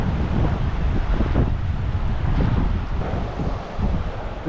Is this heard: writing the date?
no